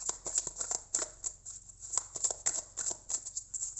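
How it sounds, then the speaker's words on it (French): A deck of oracle cards is shuffled by hand close by, giving quiet, quick riffling flicks and soft slaps in an uneven rhythm with no speech. "je brasse les cartes"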